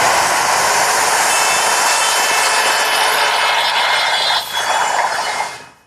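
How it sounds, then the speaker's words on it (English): A router shaping half of a wooden tenon with a template gives a steady, loud high-pitched whine that holds throughout before winding down at the end. "I'm just going to route away the material for this half of the tenon"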